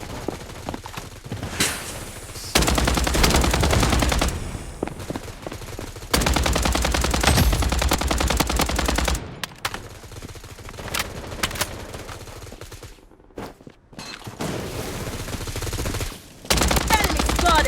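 Rapid bursts of automatic gunfire in the mobile shooter Blood Strike, loud and close, coming in long sustained volleys broken by short pauses and scattered single shots.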